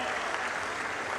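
Audience applause at a public Swachh Andhra Swarnandhra cleanliness program in Anakapalli, Andhra Pradesh: dense, steady clapping from a crowd, sustained at even loudness throughout.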